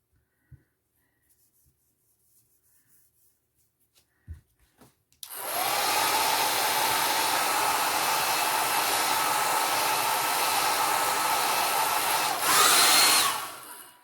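After a quiet stretch with a few small taps, a blow dryer switches on and runs loud and steady for about nine seconds, briefly rising in pitch near the end.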